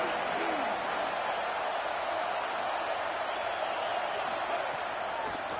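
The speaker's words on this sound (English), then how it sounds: "This crowd ready to make its presence known." An American football stadium crowd at a game produces a steady, dense roar that holds at an even level throughout, with no distinct cheers or claps standing out.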